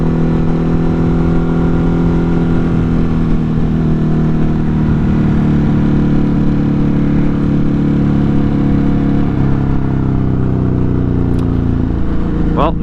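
A Ducati Hypermotard 950 RVE motorcycle ridden on city streets, its engine droning loud and steady with shifting pitch as it accelerates, plus heavy wind rush throughout.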